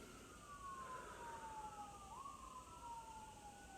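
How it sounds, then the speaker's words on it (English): Emergency vehicle siren passing outside, faint and distant, with a single wailing tone that slowly falls in pitch over a steady low background hush. "I'm sending love to that siren."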